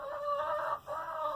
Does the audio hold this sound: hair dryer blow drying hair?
no